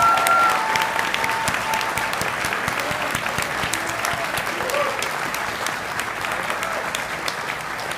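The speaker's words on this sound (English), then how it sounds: "Please stand for a moment, both of you, and let us applaud you one more time." An audience at an honors convocation gives award recipients a dense, sustained round of applause, steady and full throughout with no gaps.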